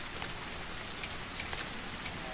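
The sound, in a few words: rain in the video game The Isle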